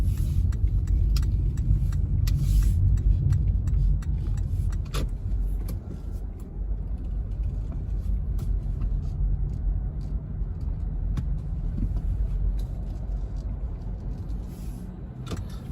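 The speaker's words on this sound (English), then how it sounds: "We are driving home" Steady low road rumble and engine hum from inside a car driving home from Lowe's Garden Center, with faint light rattles and clicks over it and no talking.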